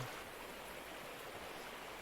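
River water flows in the Gold Rush game, a steady, even rushing hiss with no breaks, heard on its own at a moderate, fairly quiet level.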